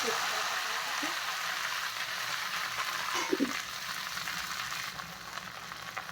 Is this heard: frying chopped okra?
yes